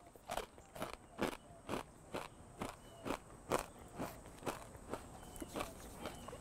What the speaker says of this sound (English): I'm sure you guys hear that crunch.